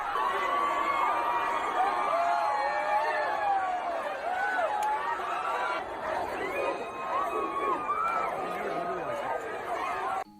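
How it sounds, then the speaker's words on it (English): A large crowd of Auburn fans roars and cheers continuously, with rising whoops and shouts blending into a loud, sustained wall of fan noise. "What is that sound? Are those Auburn fans cheering?"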